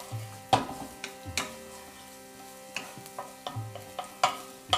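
Minced garlic cloves frying in olive oil over medium-high heat, a soft steady sizzle broken by a few sharp clanks and taps of utensils against the pan.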